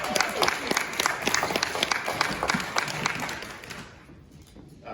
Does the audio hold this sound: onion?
no